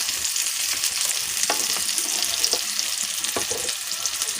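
Palm weevil larvae fry in their own rendered oil, a bright continuous sizzle close by, with a few soft scrape and stir taps rising over it.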